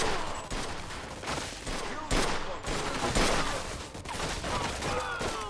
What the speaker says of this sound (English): bullets is whizzing past my Yamis.